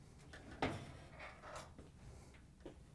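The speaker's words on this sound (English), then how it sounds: "we can lift the door off the mounting tabs" A GE dryer's front door being lifted off its mounting tabs during repair, giving one sharp close knock followed by lighter rattles and a softer clunk near the end, with no talking.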